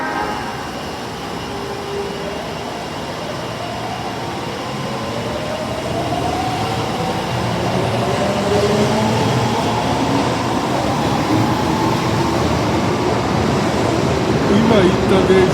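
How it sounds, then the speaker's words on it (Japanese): Osaka Metro Tanimachi Line subway train 22619, a car with a faulty door chime, passing close by: a steady, building rumble of wheels and running gear with rising tonal whine, growing louder toward the end. "今行った電車は22619のドアチャイム異音車です。"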